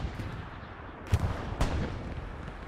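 Soviet precision strike artillery lands in a Hell Let Loose match, two distant booms about half a second apart rising over a steady low rumble of battlefield ambience.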